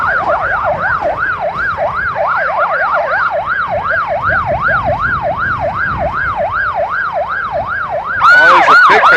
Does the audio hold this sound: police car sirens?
yes